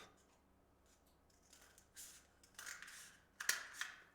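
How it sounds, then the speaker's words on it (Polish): Scissors cutting a tube lengthwise, a few faint, close snips and crinkly cuts that grow louder toward the end, with no talking. "Bierzemy nożyczkami, przecinamy naszą tubkę wzdłuż."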